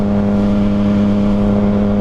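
A Yamaha FZ-09 motorcycle engine runs loud and close, holding a steady droning hum with strong harmonic tones for two seconds, with no rise or fall in pitch and no voices.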